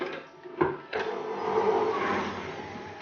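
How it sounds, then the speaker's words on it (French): Softened butter and white sugar being beaten together in a mixing bowl for Halloween cookie dough, giving a steady whirring mechanical churn with a couple of brief knocks near the start, then a continuous moderately loud hum. "je vais mélanger les deux jusqu'à ce que le mélange soit bien léger"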